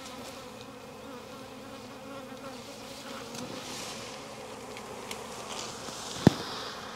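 A steady, dense buzzing of a honey bee swarm fills the air, continuous and close, with a brief sharp knock near the end.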